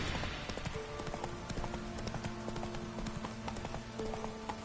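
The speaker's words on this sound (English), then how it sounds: "Run, Roach" Horse hooves clip-clopping at a steady run in the video game Witcher 3, loud and continuous with a music bed underneath and no speech.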